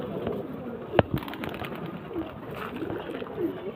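Pigeons coo softly nearby in a loose run of low, murmuring calls over steady background noise, with one sharp knock near the start.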